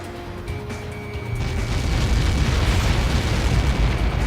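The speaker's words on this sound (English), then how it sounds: "How many got caught in that explosion?" A deep, roaring explosion in the video game Ace Combat 7: Skies Unknown swells and rumbles on, a dense wall of low booming noise that fills the clip.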